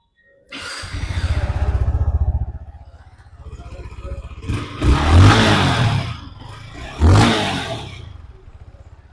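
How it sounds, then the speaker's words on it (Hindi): A Yamaha XSR 155 motorcycle engine idles, then revs sharply twice in quick bursts, loud and close, settling back to a rumbling idle. "सो कुछ इस तरह का एग्जॉस्ट साउंड जो है वो आपको मिलता है विद द XSR 155"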